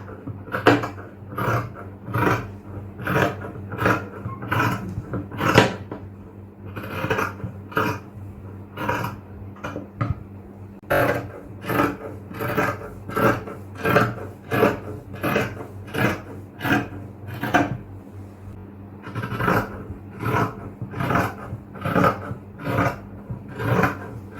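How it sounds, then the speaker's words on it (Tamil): Scissors cutting through inskirt fabric along a marked line, a steady run of rhythmic rasping snips that repeat closely and loudly with brief pauses between strokes. "ஃபர்ஸ்ட் ஈவனா ஒரு லைன் போட்டோம்ல, அதை கட் பண்ணிடலாம்."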